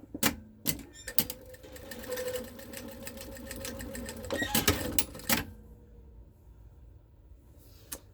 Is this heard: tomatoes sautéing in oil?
no